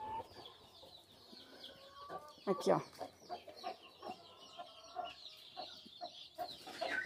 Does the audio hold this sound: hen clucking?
yes